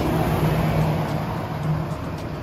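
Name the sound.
car passing on a road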